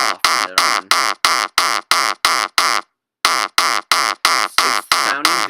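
A synthesized gabber hardcore kick drum pounds in a steady, loud, distorted rhythm of short hits, pausing briefly mid-run before resuming, with the compressor switched off and back on to change its punch and body.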